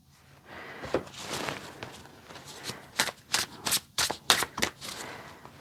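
A deck of oracle cards is shuffled by hand, close and quiet, with a soft rustle building into a run of crisp, rapid riffling slaps near the end.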